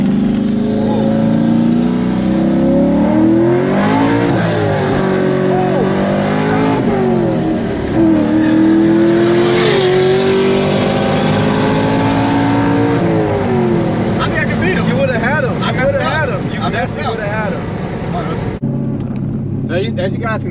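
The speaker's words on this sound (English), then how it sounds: "a shot of me running the car kind of hard, trying to get from second to third" A cammed C5 Corvette Z06 with a manual gearbox is run hard, its lumpy engine revving up through second, then a rough shift into third before it climbs again. The engine is loud and close, with a voice over it.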